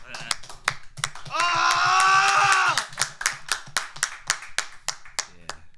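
A few people clap in uneven, sharp strokes, close and distinct, while a voice speaks loudly over the first half.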